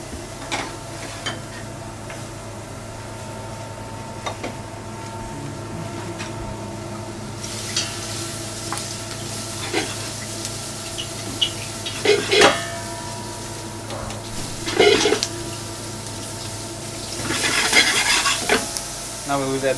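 Garlic and cream cooking gently in a pan as a Michelin-star chef in Paris stirs, with soft sizzling, repeated scraping and clinks of utensil against the pot, and a few louder knocks near the end.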